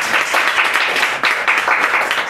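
Audience clapping at a small live concert in Sakai, Osaka, a dense, steady patter of many hands, fairly close and full, with no talk over it.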